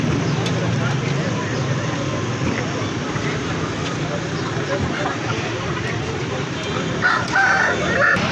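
Aseel roosters crow at a busy rooster market in Rawalpindi, Pakistan, with several crows standing out over constant crowd chatter, clucking and street noise.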